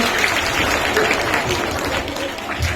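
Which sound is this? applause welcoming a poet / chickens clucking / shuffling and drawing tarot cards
applause welcoming a poet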